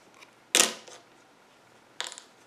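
Scissors snip the loose end of crochet yarn on a pumpkin-shaped hot pad: two short, crisp cuts about a second and a half apart, close and quiet, with no talking.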